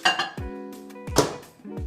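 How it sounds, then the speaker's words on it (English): A dish holding chicken is set into a microwave, with several close, sharp clinks and clatters of crockery against glass and metal in quick succession. "We put this in the microwave."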